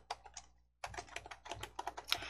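A file name typed on a computer keyboard: a quick burst of keystrokes, then a brief pause, then a longer run of close, crisp clicks at an uneven rhythm.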